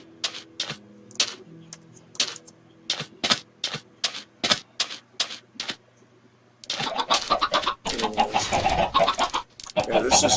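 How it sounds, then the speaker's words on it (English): Chickens on a Minecraft chicken farm: a run of sharp, evenly spaced clicks gives way to a dense, loud burst of overlapping clucking and flapping, all within the video game. "Yeah, this is Mumbo Jumbo's chicken farm."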